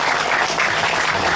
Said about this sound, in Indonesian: Ini luar biasa, tepuk tangan untuk ini.